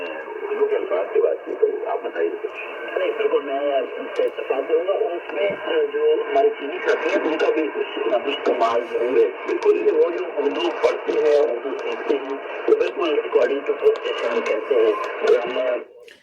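Thin, tinny audio from a Yaesu FT-710 radio through a small external speaker: a voice talking with almost no bass, steady and continuous, ending abruptly.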